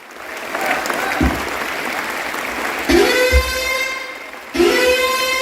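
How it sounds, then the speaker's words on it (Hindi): Audience applause as two new directors take the stage at a company event, steady clapping from a crowd with loud music swelling in and out and stage sounds over it. "Let's do very big hand."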